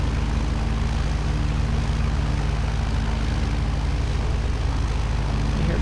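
Zodiac 601-650 light aircraft engine droning with a steady propeller hum on landing approach with throttle reduced, constant and loud inside the cabin, no talk.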